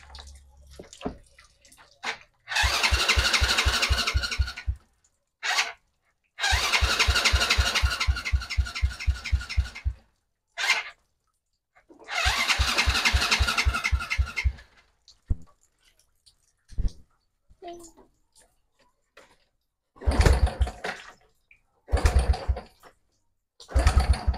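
A car engine cranks repeatedly without catching, several long bursts of rapid rhythmic starter churning separated by silences and short clicks, loud and close, with shorter cranking attempts near the end.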